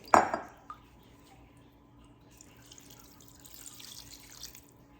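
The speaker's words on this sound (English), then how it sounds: "I'm gonna add some more of my broth" Homemade broth poured from a container into a pan of Southern-style cornbread dressing: a brief splash up front, then a soft, steady trickle of liquid running quietly for several seconds.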